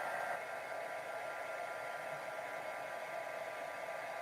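Heat tool warming powder coating on a nail, a steady breathy whoosh of blown air held at even loudness throughout, close by, with no talk.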